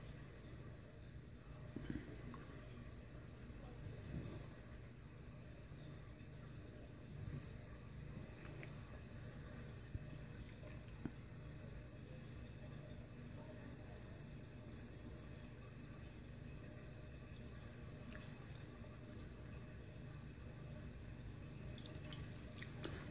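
Room-temperature water drips and trickles as hands handle globbies in a basin, a soft, steady wet patter close by with faint handling noises and no talking.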